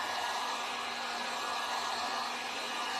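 A hair dryer blows steadily and loudly on a stencilled Santa tray, a constant broadband whoosh that runs unchanged from start to finish with no voices.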